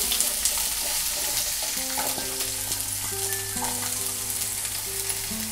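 Chopped onions frying in hot oil give off a steady crackling sizzle, with a faint melodic tone playing softly in the background.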